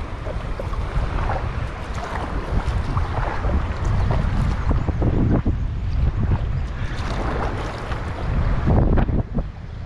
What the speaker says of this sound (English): this upper section has some more rapids than I expected